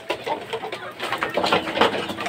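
Gamefowl, fighting roosters and young stags, cluck and call while being fed, giving a busy run of short, close clucks and squawks at uneven intervals with no speech.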